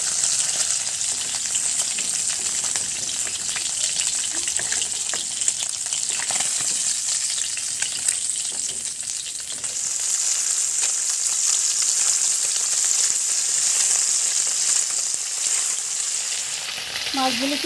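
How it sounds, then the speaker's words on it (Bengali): Small chapila fish fried on both sides in hot oil give a continuous close crackling sizzle, with soft stirring and turning noises underneath and no voices. "মাছটাকে আমি এপিট ওপিট করে দোনো পিঠ ভেজে নেব।"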